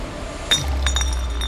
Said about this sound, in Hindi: ग्लास गिर गया